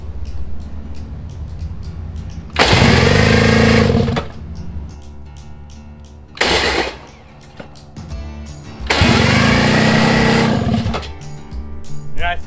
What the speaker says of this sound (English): I'm gonna open up the air, see if we can blow any crud out.